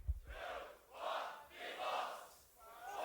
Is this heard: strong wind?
no